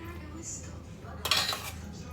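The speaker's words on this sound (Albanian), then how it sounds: "Tani do shtoj orizin, si që thash." Rice for stuffed peppers is tipped into a metal pot, making a short bright rattling clatter over a low quiet background, close by.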